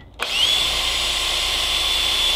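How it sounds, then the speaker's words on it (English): A power drill bores a hole through a glasshouse panel, whirring with a steady high-pitched whine that starts abruptly and runs loud and continuous, close to the listener. "we're just going to drill a hole here"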